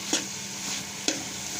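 Carrot halwa being roasted in a pan, heard as a quiet steady sizzle broken by two sharp scrapes of a spoon stirring about a second apart.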